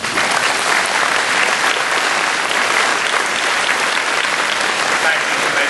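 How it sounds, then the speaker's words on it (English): A crowd at a school graduation ceremony applauds continuously, loud, dense, sustained clapping that fills the space at an even level. "Would you please give these a round of applause?"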